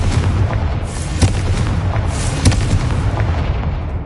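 Confringo blasting spell explosions in Hogwarts Legacy. A loud, booming rumble runs throughout, with two distinct heavier blasts about a second apart.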